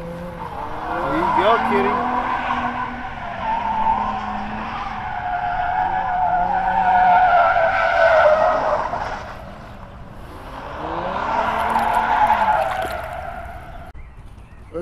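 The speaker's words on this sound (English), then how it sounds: "some dude doing donuts in the parking lot over here, ripping out his tire" A car doing donuts in a nearby parking lot squeals its tires in long, wavering screeches that rise and fall, moderately distant; someone speaks briefly over it.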